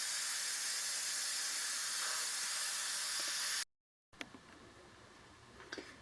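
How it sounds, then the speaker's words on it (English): A pressure canner holding rice gives a steady hiss of escaping steam that stops abruptly partway through, followed by near silence and a few faint clicks and taps. "Now the steam has been released."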